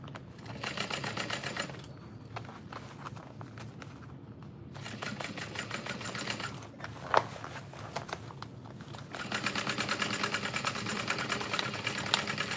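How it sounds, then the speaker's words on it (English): Sewing machine running in stitching and backstitching bursts along a bucket bag seam, a fast rhythmic mechanical whir that pauses briefly twice before resuming steadily and close. "I'm going to join with my existing stitch line, and then I'm going to backstitch where the mess up started"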